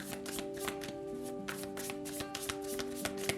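A deck of cards is shuffled for a Virgo reading. The rapid, rhythmic riffles and taps repeat close by over steady background music, with no speech.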